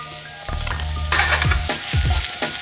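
Apples sliding into hot olive oil in a pan set off a loud, close sizzle and frying crackle, with scraping stir sounds as they are tossed, no talking.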